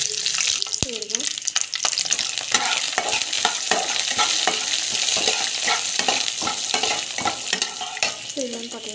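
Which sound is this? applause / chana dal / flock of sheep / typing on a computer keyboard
chana dal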